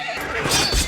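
A horse neighs in a short, loud whinny that rises and falls over under a second, set in an ancient Roman warrior scene.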